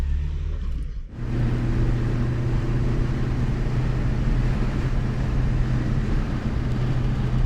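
Citroën BX with its 360 engine and short gearbox, driving on the road: a steady, loud interior engine drone with low humming tones runs continuously after a brief quieter moment at the start.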